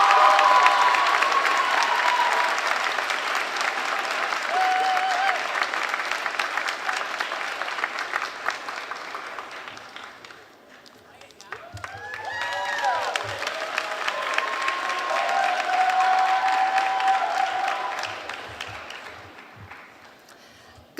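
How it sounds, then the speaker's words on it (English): Full round of audience applause at a school senior honors ceremony: steady, dense clapping from a large crowd that dips and then swells again, with some talking heard in the middle. "Please join me in giving a round of applause for Edmund Dauber"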